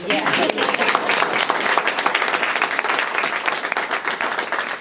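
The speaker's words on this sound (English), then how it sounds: "I feel like everyone should clap" An audience at a technical school board meeting breaks into applause, a dense, continuous wash of many hands clapping together at a full, even level from start to finish.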